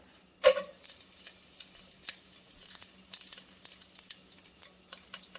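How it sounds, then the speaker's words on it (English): Wet sugar snap peas hit hot oil in a pan with one sharp initial burst, then settle into a faint, steady low sizzle with scattered crackles, alone without voices. "I'm going to stand back so that these wet snap peas don't cause me to get destroyed by the oil."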